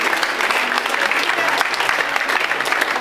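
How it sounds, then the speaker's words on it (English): A church congregation applauds, a steady, dense patter of many hands clapping together at an even level for the whole stretch, with no voices standing out. "Let's just applaud the Lord, shall we, for what he's doing"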